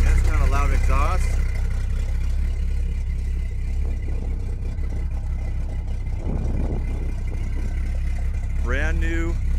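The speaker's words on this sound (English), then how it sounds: "That's kind of a loud exhaust." A 1950 Chevy pickup with a loud exhaust idles, a constant deep low rumble that runs steadily underneath someone talking.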